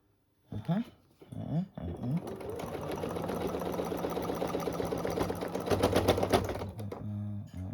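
Sewing machine stitching a seam on a small quilted table runner, running steadily for several seconds after a couple of short bursts, close and loud, with brief talk at the start.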